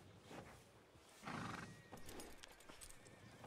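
Horses neigh and whinny at a ranch around nightfall, a faint, fairly distant call rising over a low outdoor background, with soft hoof clip-clop nearby.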